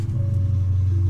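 A 2022 Aston Martin DBX's engine idles close by after starting, a steady low rumble with a faint higher whine, holding even and continuous for just over a second with no talk.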